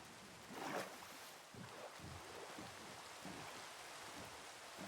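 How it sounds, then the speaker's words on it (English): Steady Minecraft rain hiss with a soft watery wash, constant and moderately loud, no voices present. "It is raining outside."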